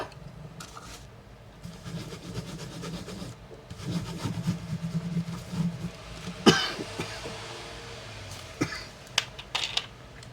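A few coughs break through low background rumble and rustling, with some sharper knocks and clicks toward the end.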